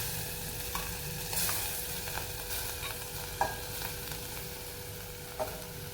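Grated carrot halwa being stirred in ghee in a pan: a faint, steady sizzle with occasional soft scrapes and taps from a spoon, with no voices.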